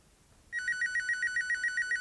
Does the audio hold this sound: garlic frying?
no